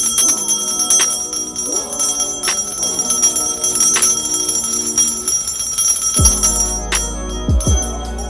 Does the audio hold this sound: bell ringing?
yes